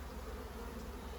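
Honey bees buzz around an open Flow Hive brood box during a nucleus transfer, a faint continuous droning hum close by with no talking.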